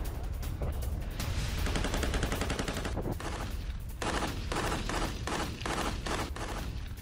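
Gunfire from Israeli soldiers in Lebanon, heard as dense continuous crackling shots, with rapid bursts and sharper separate reports toward the end, steady and moderately loud, with no voices.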